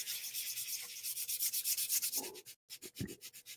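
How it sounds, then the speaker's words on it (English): An emery board rubs back and forth over a small miniature diorama base, a quiet, steady scratchy sanding rhythm of rapid strokes with one short pause near the end. "emery boards. Just like sandpaper."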